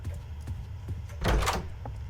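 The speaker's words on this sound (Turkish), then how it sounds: "Kapı sesi de değişmiş fark ettiyseniz." A door opens in the Roblox game Doors with one short, scraping thud over a low, steady ambient hum.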